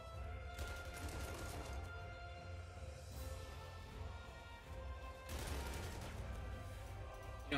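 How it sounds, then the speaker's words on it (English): Artillery counter-battery fire in the wargame Panzer Corps II: muffled, distant bursts of gunfire and booms swelling twice over a steady layer of game music, fairly faint overall. "Some counter battery fire going on there"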